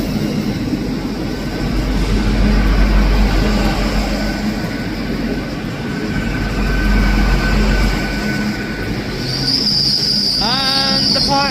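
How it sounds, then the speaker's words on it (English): A ScotRail service to Leven pulls out of Edinburgh Haymarket station with a loud, close rumble of wheels and carriages, ending in a sharp, high-pitched wheel squeal. "departing out now is the 10:20 Scotrail service from Edinburgh Waverley to Leven"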